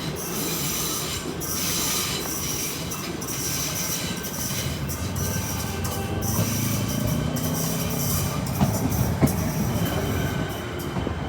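A Melbourne Sandringham line train at a station, steady loud rumble of rolling wheels and carriages with squealing rail contact and a few clacking knocks, close by and unbroken by talk.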